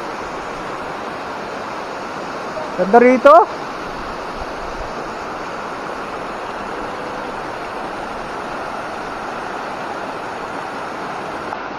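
Loud, steady roar of water plunging from a waterfall, heard from nearby and filling the whole span without a break; a brief spoken voice rises over it midway.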